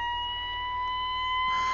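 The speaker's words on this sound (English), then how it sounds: "Let's turn off that siren." A police car siren in the BeamNG driving game wails steadily, its tones holding without a break and swelling slightly near the end, with no voices over it.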